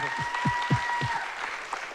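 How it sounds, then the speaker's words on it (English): A conference audience at a startup event claps for about two seconds, a close burst of clapping with a voice sounding over it. "Better than that with a round of applause."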